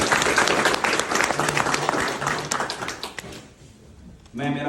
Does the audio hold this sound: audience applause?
yes